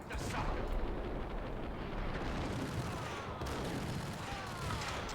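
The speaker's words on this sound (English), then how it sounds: "I hear a grenade!" A grenade blast in the shooter game Max Payne erupts as a dense, loud roar of explosive noise and rumbling debris that fills the whole stretch, with faint game voices mixed in.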